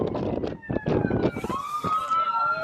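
Emergency vehicle sirens wail with rising and falling tones near a high school soccer game, fairly loud and steady, mixed with crowd and field noise.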